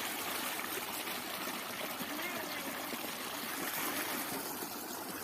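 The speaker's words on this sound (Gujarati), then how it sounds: "શેરડીમાં પાણી છોડ્યું છે." Irrigation water flowing steadily into a sugarcane field in a continuous rushing stream, faint and even throughout with no pauses.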